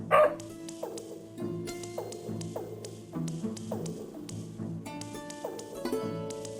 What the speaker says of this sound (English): That dog is adorable.